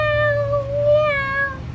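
A child imitates a cat's scream in a drawn-out, wailing meow, two long tonal cries in a row, loud and close with no other talk.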